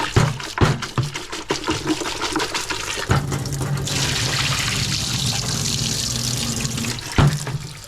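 Water runs from a tap while an axolotl tank is rinsed, with splashing and sloshing at first, then a steady rushing stream, close by.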